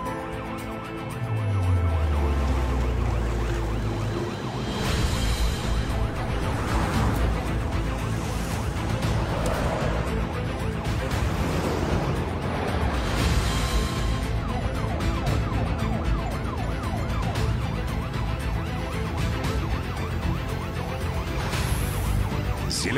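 A Moscow ambulance siren wails continuously and loudly, mixed into a dense, layered backdrop of other sound with no pauses.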